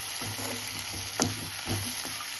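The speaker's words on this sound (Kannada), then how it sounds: "ಈರುಳ್ಳಿ ಚೆನ್ನಾಗಿ ಬೇಯ್ತಾ ಇದೆ." Onions fry in a pan for chitranna lemon rice, a steady close sizzle with a couple of soft stirring clinks, short and unbroken.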